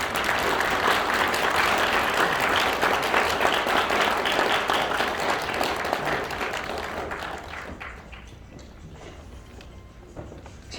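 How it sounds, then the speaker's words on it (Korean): A seminar audience applauds in a hall, dense clapping loud and sustained for about seven seconds, then thinning to scattered claps as it fades out. "여러분 박수를 좀 부탁드립니다"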